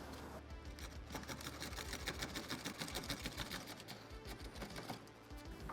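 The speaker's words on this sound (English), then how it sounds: "carefully saw those V-notches in" A hand saw cuts V-notches into a template glued onto wood for a rubber band gun, giving a quick, even run of rasping strokes at close range that ease off slightly toward the end.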